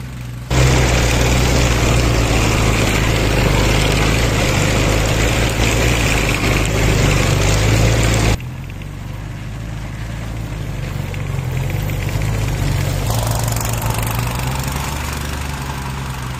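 A homemade tracked mini tractor runs a homemade mower in a hayfield, its engine chugging loud and steady throughout, dropping slightly in level midway before rising again.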